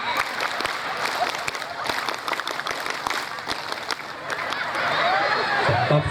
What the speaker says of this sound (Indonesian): Tepuk satu, tepuk dua, tepuk tiga. Tepuk pramuka.